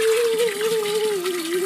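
Water gushes steadily from a DC solar-powered water pump running directly off three solar panels, a loud continuous close rush with a faint steady tonal whine from the pump beneath it, no talk.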